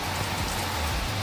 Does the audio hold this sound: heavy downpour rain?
yes